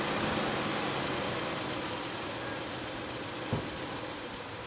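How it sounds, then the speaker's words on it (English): A 1989 Mercedes-Benz 420 SEL engine runs at a steady, even idle, recorded close up as a continuous broadband rumble with one brief knock near the end. "I'll just start it for you"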